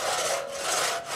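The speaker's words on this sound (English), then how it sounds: "they spend a lot of time cutting wood" Rough back-and-forth strokes of a hand saw cutting firewood on a rural homestead, two or three rasping passes close by with a short dip between strokes.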